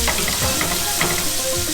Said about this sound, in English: Just gonna brown this on all sides.